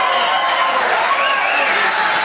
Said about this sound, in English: And the crowd loving this. Going berserk.